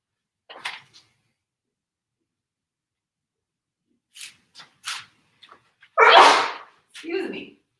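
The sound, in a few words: person sneezing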